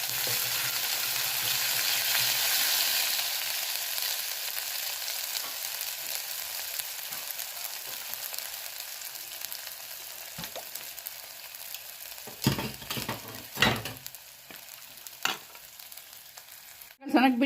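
Ginger garlic paste fries with cumin in a pan for Punjabi dhaba-style kadhi pakoda, giving a steady close sizzle throughout, broken by a few sharp stirring scrapes near the end.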